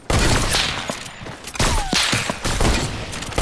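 Rapid gunfire crackles in a Fortnite match, a dense fusillade of loud sharp shots with brief pauses between bursts, close and continuous.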